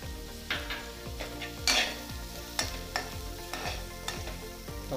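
Finely chopped onion and carrot fry and hiss steadily in a pan while a spoon stirs and scrapes against the metal in repeated knocks, close and fairly loud, with no voices.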